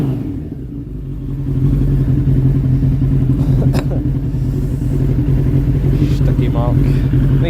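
A Suzuki Bandit 1200S MK1 motorcycle idles steadily up close, its low, even engine drone continuous throughout with slight mechanical clatter and a faint background voice.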